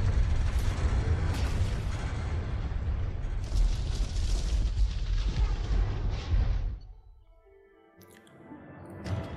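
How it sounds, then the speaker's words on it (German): A spaceship crashes and explodes in the PC game Mass Effect 2: a loud, sustained roaring rumble of destruction that breaks off abruptly, leaving a quieter tail with faint tones. "Okay, jetzt geht das Schiff kaputt. Jetzt stürzt es ab."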